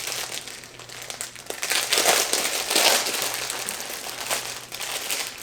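Plastic crinkling and rustling as a zippered travel snack bag with a handle is pulled out of its packaging, an irregular and fairly loud crackle that goes on for several seconds, with no talk.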